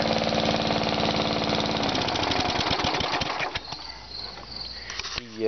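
A Briggs & Stratton small engine runs close by with a rapid, even putter, then cuts out and sputters unevenly to a stop near the end, with a brief sound at the very end.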